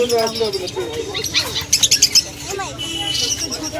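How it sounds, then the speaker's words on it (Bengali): Pigeons call near a riverside Ganges ghat in Serampore, with a quick burst of close chirps and squawks midway, heard under and between people talking. "এগুলো পায়রা।"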